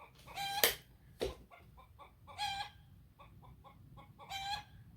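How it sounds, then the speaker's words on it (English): A hen cackles loudly after laying an egg, sharp repeated squawks in bursts with rapid clucks between them, fairly close and standing alone without talk. "damn chicken"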